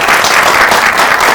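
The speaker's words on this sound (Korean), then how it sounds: "우리 관객과 기자분들이 박수 한번 부탁드리겠습니다." Audience members and press at a Korean film press screening and press conference break into loud, dense applause, a steady wash of many hands clapping close by.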